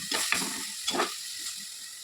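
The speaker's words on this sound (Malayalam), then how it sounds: "ഇതെല്ലാം മിക്സിയിലിട്ട് അരച്ചിട്ട് നമ്മൾ ഇതിനകത്തിട്ട് തുടങ്ങുന്നു." Ground garlic, ginger and green chilli paste sautéing in a pan for prawn roast, a soft hiss with a few brief stirring bursts, fairly quiet.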